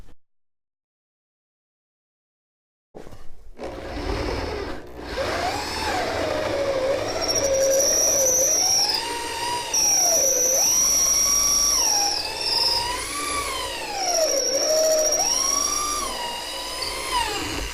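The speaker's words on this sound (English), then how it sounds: "we're going to switch over to a little larger bit. They require a 3/8 hole in here." A power drill with a larger bit bores a 3/8-inch hole into a wooden stair for a handrail and spindle install. After a few seconds of silence it gives a loud, close, continuous whine whose pitch repeatedly rises and dips as it bites.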